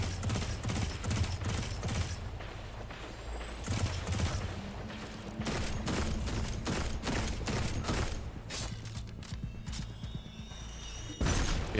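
Dense, continuous video game combat from Destiny 2, with rapid gunfire and grenade blasts layered into a busy, loud stream of shots and explosions throughout.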